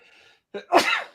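A single sharp sneeze bursts out close to the microphone after a moment of faint background sound, with a brief intake of breath just before it.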